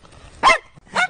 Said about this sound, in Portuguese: Latido de cachorro Collie.